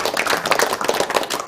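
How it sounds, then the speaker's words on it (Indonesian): A studio audience at a live television religious program claps in a brisk, fairly loud round, the individual claps irregular and overlapping, with no talking over it. "tepuk tangan untuk Gus Taufik Maulana"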